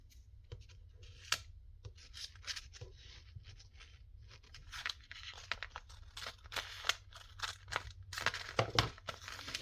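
Scissors cut paper for a junk journal cover: quiet, close, irregular snips and crinkles repeat throughout over a low background hum.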